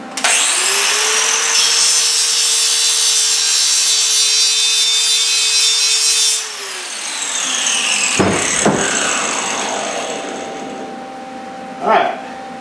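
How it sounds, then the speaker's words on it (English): An angle grinder strips paint off metal before welding while building a rocket stove, a loud steady whine for several seconds that winds down, followed by scraping and clanking of metal. "since I can't weld through paint, what I'm having to do is just to get this weld started, I got to grind a little bit of this paint off"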